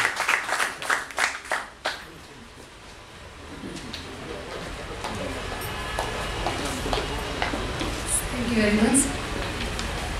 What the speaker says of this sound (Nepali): एक जोरदार ताली बजाइदिनुहोस् न